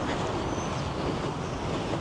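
Wind blows outdoors on a gusty morning in Germany, a steady broadband roar buffeting the microphone without a break. No one speaks over it.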